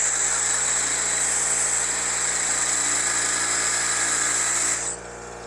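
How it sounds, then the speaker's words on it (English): A steel stud spun by a handheld drill is pressed against a bench grinder wheel to chamfer its edge, giving a steady loud high grinding whine with motor drone that drops off abruptly near the end. "So I chucked it up on my drill and take it over to the bench grinder"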